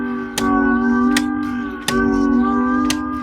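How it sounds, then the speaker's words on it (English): Hammond B3 organ tone generator slowed down, a sustained buzzy drone of stacked tones broken by sharp ticks, roughly four irregularly spaced clicks over the hum. "That's the tone generator, and it's like a clock motor."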